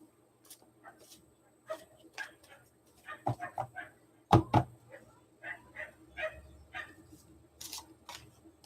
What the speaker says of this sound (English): All the little doggies yapping.